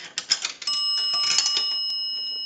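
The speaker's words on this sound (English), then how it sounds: "We're going to do a dime, that'll ring the bell twice." A dime clicks through an Automatic Electric three-slot payphone mechanism, then a bright ringing bell tone sounds and sustains, with a second faint ping near the end; close and clear with no talking.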